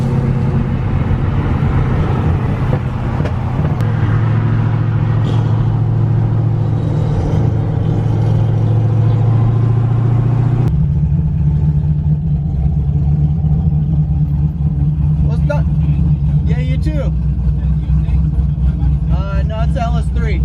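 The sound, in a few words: Corvette LS3 with custom boost cam engine revving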